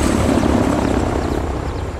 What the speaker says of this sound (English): Go heli incoming.